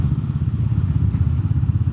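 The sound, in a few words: Royal Enfield Meteor 350 single-cylinder engine and exhaust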